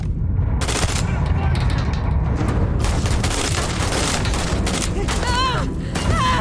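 Video game gunfire in Starfield, dense loud bursts of shots and booms layered into a near-continuous barrage with whining sci-fi tones toward the end and no pause between volleys.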